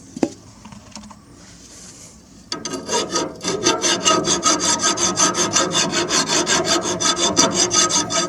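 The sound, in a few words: hand file filing down a bearing spindle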